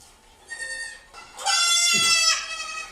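A goat in a TV show bleats in loud, wavering cries, a shorter call followed by a longer strained bleat, heard close and alone.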